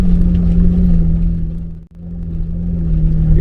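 Overland truck engine labouring up a hill, a loud, steady low drone that briefly drops away before returning at the same heavy pitch, with no talking.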